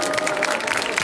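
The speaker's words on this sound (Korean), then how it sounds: "로봇에게 큰 박수" A crowd applauds the DRC-Hubo robot at a live demonstration, a short burst of dense clapping that is close and steady.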